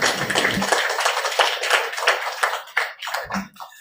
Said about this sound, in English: So a round of applause for all of us.